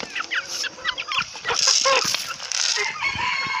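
Several chickens cluck and squawk in a close, busy backyard flock while hens and a naked-neck cockerel are fed one morning, with brief rising calls over a steady stream of cackling and no talking.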